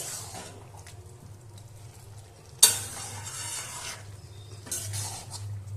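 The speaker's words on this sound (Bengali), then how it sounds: "মাঝে মাঝে একবার করে নাড়িয়ে দিতে হবে, নাহলে দুধ দেওয়া আছে তলায় লেগে যেতে পারে" Chicken polao rice with milk being stirred in a pot, a soft steady scraping and sizzling with two sharper metallic scrapes of the spoon against the pot, close and moderately loud, no talk.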